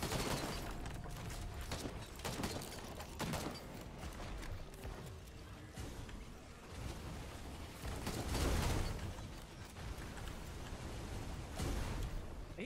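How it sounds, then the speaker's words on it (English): In the video game Risk of Rain 2, a dense barrage of explosions and rapid gunfire bursts repeatedly at a moderate level, with booms swelling and fading across the whole stretch. "Explosions"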